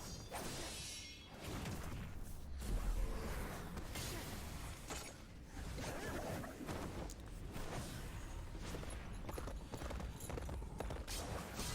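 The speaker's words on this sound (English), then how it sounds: "It's Epona. It's Link's horse." Horse hooves galloping in a Zelda video game trailer, a steady rapid clip-clop under swooshes and crashing effects, fairly faint and mixed with the soundtrack.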